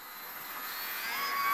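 A radio-controlled model airplane in flight gives off a thin, high engine whine that rises steadily in loudness as it comes closer, with no voices.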